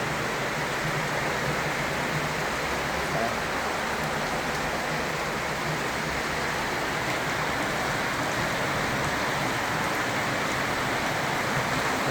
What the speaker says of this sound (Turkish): Çok güzel yağmurlar arkadaşlar.